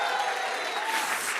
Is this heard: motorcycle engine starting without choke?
no